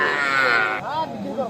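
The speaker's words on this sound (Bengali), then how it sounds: "চলেন আমরা কয়েকটা ষাঁড় বাচ্চা দেখাবো আপনাদের" At a cattle market, young bull calves low and moo loudly and close by. Bright drawn-out calls overlap one another with market background beneath them.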